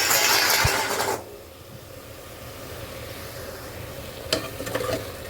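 Mutton is stirred into masala in a hot pan, a loud close sizzle and scrape at first, then a quieter steady frying hiss with a few light utensil knocks near the end.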